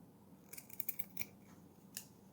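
Scissors snipping the fabric edges of a sewn cake strip, a quick cluster of small sharp close cuts followed by one more snip after a pause, in a quiet room.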